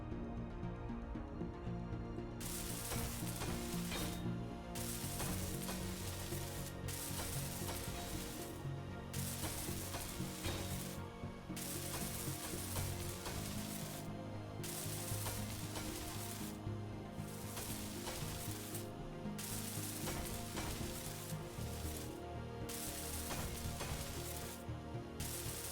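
Welding in the survival game Space Engineers, a continuous sizzling, crackling hiss that runs steadily throughout with regular brief dips, loud and close, with no talking.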